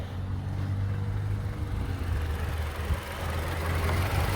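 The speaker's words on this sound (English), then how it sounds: "my car start to idle, like have like a heavy, rough idle" A 2014 Toyota Camry engine holds a heavy, rough idle: a steady low drone with an uneven, lumpy undertone, close up and continuous, with no talking.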